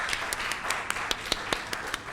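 Audience applause for a panel of speakers at the close of a discussion event on life after tuberculosis; moderate, steady clapping from a room of listeners with distinct individual claps standing out, fairly faint.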